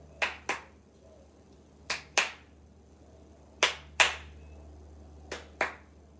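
Hand claps in four pairs with pauses between, crisp sharp claps in a quiet room, with no talking.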